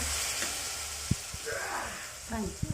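Boiled bitter gourd sizzles in a hot pan with a soft steady hiss, punctuated by a few clinks and stirring knocks, while a voice speaks briefly.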